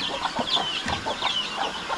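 A hen with her nine chicks at a farm, giving soft repeated clucks with high chick peeps scattered through, close and steady with no talk.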